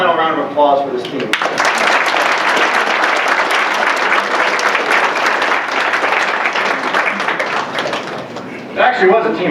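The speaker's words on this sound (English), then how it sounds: "round of applause for this team" Sustained audience applause for a clinic team at a clinic presentation event, a dense wash of clapping that swells and holds loud for most of the stretch, with talk audible at the start and end.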